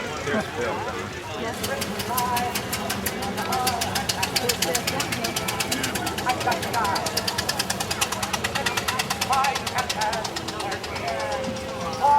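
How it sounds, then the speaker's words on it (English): A vintage Standard D-25 biplane engine taxis with a loud, rapid, rhythmic knocking clatter that holds steady, while someone speaks over it on a public address system. "the new standard D25 taxiing out the last flight"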